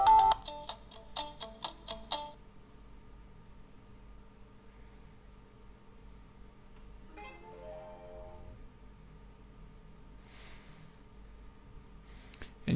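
A ringtone plays from the bottom speaker of a LeEco Cool1 phone: a quick run of bright chime notes opens, followed by faint sparse melodic tones over a low hum, with no talking.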